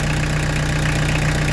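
A Peugeot 205 TD diesel engine idling, a loud, steady low rumble with an even rhythmic knock, heard close and alone.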